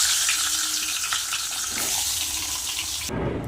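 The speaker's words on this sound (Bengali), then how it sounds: "মাছের মাথাটা ভেজে নেব" Hissing, crackling sizzle of a fish head frying in hot oil, steady and close, with no voices.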